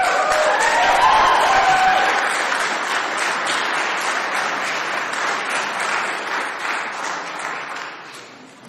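Audience applause at a Scottsdale city council meeting right after a 4-3 vote, a sustained loud round of clapping with some cheering that slowly tapers over several seconds.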